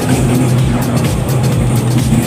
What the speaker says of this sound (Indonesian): motor lewat dulu